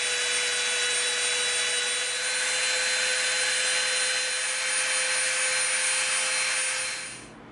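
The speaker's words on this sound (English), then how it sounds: "now we're going to come in with our Dremel and we're going to just clean this end up a little bit" A Dremel rotary tool trims the end of a piece of EVA foam with a steady, loud, high-pitched whine that holds constant for several seconds before cutting off.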